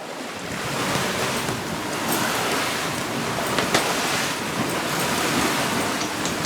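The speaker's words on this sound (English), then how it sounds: "the wind has picked up quite a bit" Steady wind rush and breaking waves around a sailboat on Lake Erie in rough conditions, a loud continuous broadband roar with gusts buffeting the microphone and no voices.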